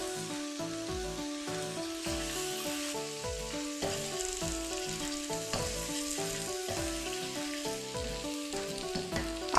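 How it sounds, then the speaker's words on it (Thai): Egg cracked into a little oil beside stir-fried cabbage fries with a loud, steady crackling sizzle while a utensil repeatedly breaks and stirs it up close. "ก็เติมน้ำมันลงไปนิดนึง แล้วก็ไข่ค่ะ ก็ยีไข่ให้แตกนะคะ"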